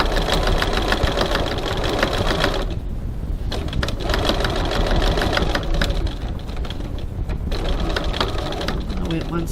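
A sewing machine top stitches a crossbody bag at a long stitch length, running loud and continuously near the seam with a rapid knocking rhythm throughout.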